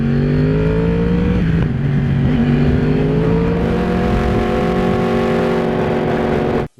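A Yamaha R1M sport motorcycle accelerating hard, loud and close, its engine note rising steadily through the gears with brief dips at shifts, no talk over it.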